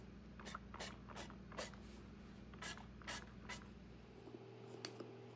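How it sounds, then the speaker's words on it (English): Short hissing bursts of oil spray hit a loaf pan for honey banana bread, several quick spritzes in an irregular rhythm over a low steady hum in a quiet kitchen. "spray it with some oil"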